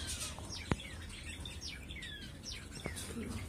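A green pigeon calls in a bird-keeping setting, giving faint, thin whistled chirps and sweeping notes over quiet background noise, with one sharp click near the start.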